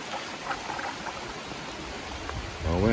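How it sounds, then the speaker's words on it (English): Heavy rain pours down over a river during gold panning, a steady broadband hiss of dense patter on water that stays even throughout, with a slight swell in loudness near the end. "But it's pouring out again."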